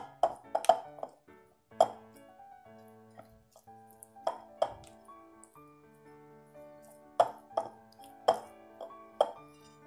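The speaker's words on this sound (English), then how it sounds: "just gonna mash the eggs" Boiled eggs being mashed in a bowl while making an Easter dinner, heard as a string of close, bright clinks and taps of utensil on dish that come in irregular bursts with quiet gaps between them, and no talking.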